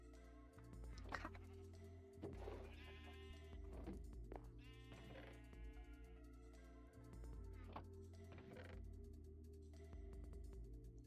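Minecraft sheep bleat repeatedly in-game, several wavering bleats spaced a second or two apart over a steady hum, with no talking.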